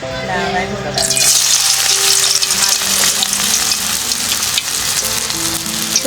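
Thankuni leaf and onion fritters (piyaju) dropped into hot oil, bursting into a loud, dense, bubbling sizzle that holds steady up close after a brief quieter start.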